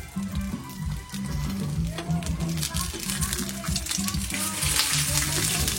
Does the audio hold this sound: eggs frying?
yes